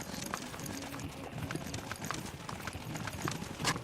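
Hooves of a horse on a trail ride through desert valleys clip-clop in a quick, steady rhythm, fairly close, over faint outdoor noise with a brief low voice in the background.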